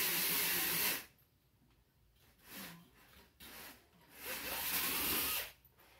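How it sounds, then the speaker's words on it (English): A cordless drill bores a hole through a metal ring in a shop, with two loud grinding bursts of drilling separated by a quieter pause, close and alone. "We're going to drill and tap this"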